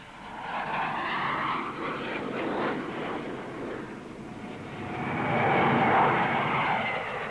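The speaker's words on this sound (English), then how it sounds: "the DH-125, a small transport aircraft with twin rear-mounted jet engines" A de Havilland DH-125 small transport jet with twin rear-mounted engines passes at an air show, a broad steady roar that builds and swells louder toward the end, with no talk.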